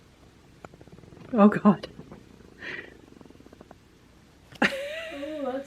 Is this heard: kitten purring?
yes